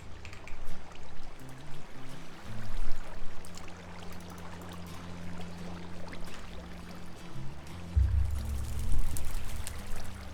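Flowing water from a circling waterfall turning a water wheel in the video game Minecraft Create, a steady pouring rush with low hum, fairly loud and continuous, swelling near the end.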